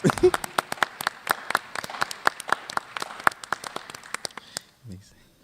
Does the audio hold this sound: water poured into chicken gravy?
no